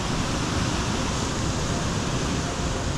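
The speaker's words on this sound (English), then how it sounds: "So it's really just a waterfall. A small waterfall." Small waterfall at Williams River Falls in Barrington Tops, New South Wales, cascading into a pool, a steady, dense, broadband rushing wash that stays constant and close throughout without voices.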